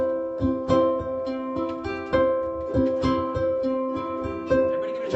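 Ukulele strummed in a steady eighth-note pattern, bright chords repeating with regular accented down-strokes, close and clear with no talking.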